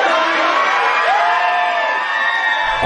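A wrestling crowd cheers and shouts at an indoor match, a loud sustained roar with whoops and yells rising above the mass of voices and no pause throughout.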